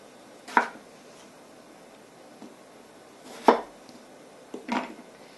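A knife cuts potatoes into wedges on a board with three separate sharp chops, spaced a few seconds apart and close by, with quiet gaps between them.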